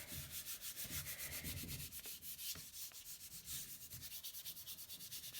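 Printer paper rubbed by hand over a gel press print gives a soft, quiet, rhythmic scratchy rubbing of steady repeated strokes, close by, with no talk.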